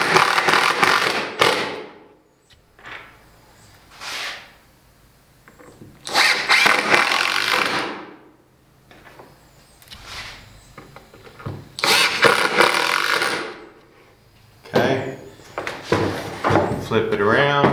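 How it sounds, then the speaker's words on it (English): A power drill pre-drills screw holes in a wooden crosscutting box for a circular saw, in several short whirring bursts close by, separated by quiet gaps with light handling clatter. "So now I pre-drill."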